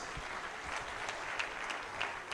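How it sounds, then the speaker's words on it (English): Lively applause from an audience at the Ekiti Innovation Summit, dense clapping that stays fairly even throughout, heard alone without talking. "Can we do an applause?"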